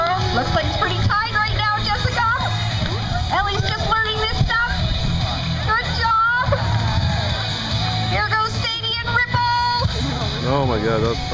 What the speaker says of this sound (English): Keep cheering.